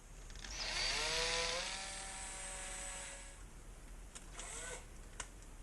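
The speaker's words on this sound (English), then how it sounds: "Let's drill a little pilot hole into those as well." A drill bores a pilot hole into a stuck motorcycle oil filter, its whining motor ramping up loudly for about two seconds then easing off, followed by a few short clicks and bursts as it stops.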